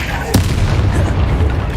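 A single sharp Bombarda spell blast in Hogwarts Legacy pops out loud near the start, followed by a rumbling low tail under ongoing game noise.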